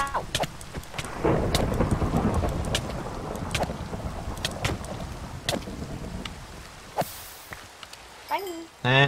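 Heavy rain and rolling thunder rumble loudly at first, then ease into scattered crackles and brief sharp sounds, with a short burst of voice at the end.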